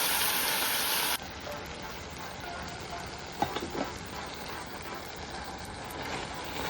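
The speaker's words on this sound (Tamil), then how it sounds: "வெட்டி பெருங்காயம் சேர்த்துக்கோங்க நான் அதை ஃப்ரை பண்ணி அரைச்ச பவுடர் தான் நல்லா வதங்கட்டும்" Steady frying hiss of a pan sautéing with asafoetida for a dosa side dish, a continuous close sizzle with a brief clatter of stirring midway, no talking.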